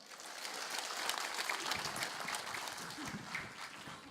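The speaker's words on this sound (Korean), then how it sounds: "멋있는 우리 김성주 부원장님께 다시 한번 큰 박수 부탁드리겠습니다" A crowd claps steadily through a hall at a Democratic Party briefing in Daejeon on the Moon Jae-in government's national vision and policy agenda, a soft, even roll of many hands that swells slightly and then tapers.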